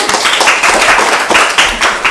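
Hands clapping loudly and close in an Indonesian school magazine talk-show segment, rapid overlapping claps from a small group in a quick, uneven rhythm.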